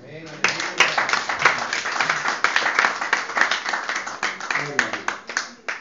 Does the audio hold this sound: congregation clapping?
yes